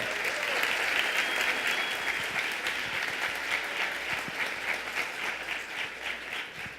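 Sustained crowd applause at a presentation event, many hands clapping in a dense, fairly loud roar that wavers slightly and begins to thin toward the end.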